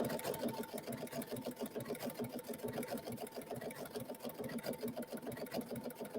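A sewing machine fitted with a side cutter foot stitches and trims fabric as it goes, a close, continuous rapid mechanical whirring and chattering that runs steadily throughout with no talk.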